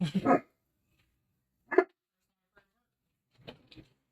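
A few short, fairly quiet dog barks and yips separated by silences, nearby but not loud.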